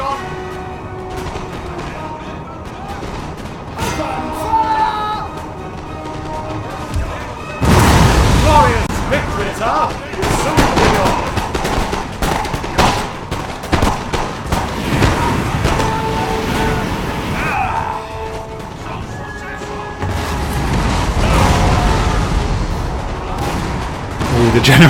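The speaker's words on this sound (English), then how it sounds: "Can actually switch to canister shot as well." Artillery firing canister shot on a Napoleonic battlefield in Total War: Napoleon, a dense run of booming blasts and crackling volleys that grows loud midway and keeps rumbling under a speaking voice.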